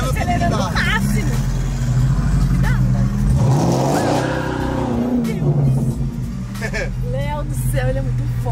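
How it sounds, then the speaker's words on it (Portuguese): A Corvette convertible's engine roars under full throttle, a loud, continuous rumble that swells and climbs in pitch as it accelerates, with people talking and shouting over it throughout. "Alex, esse aqui eu tô acelerando, acelerando o máximo."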